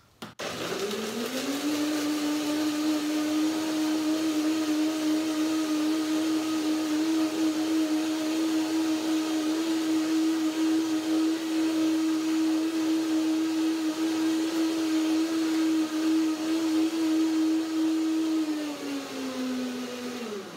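A blender blending banana and cashew cream whirs up to a loud, steady, high-pitched drone, runs continuously for about twenty seconds, then winds down at the end.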